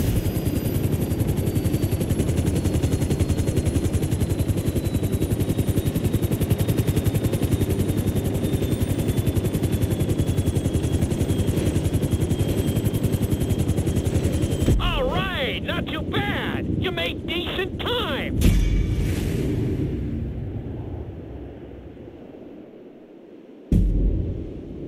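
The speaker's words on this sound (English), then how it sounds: "Bring the helicopter down gently onto the helipad." A video game helicopter in GTA 5 drones with a steady, loud rotor and engine roar for most of the stretch, then choppy bursts and wind follow as it comes down onto a helipad.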